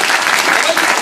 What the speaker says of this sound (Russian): Я думаю, это заслуживает аплодисментов.